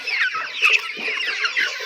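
Several chickens on a farm cluck and chatter close by in a steady, busy stream of short calls, with no voices.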